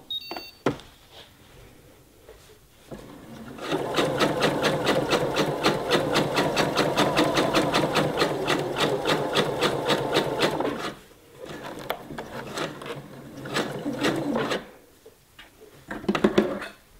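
A sewing machine running a long basting stitch through felt for a pillow cover, a steady rapid mechanical clatter for about seven seconds, then a short second burst, with quiet handling clicks before and after.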